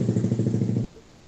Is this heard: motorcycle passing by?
yes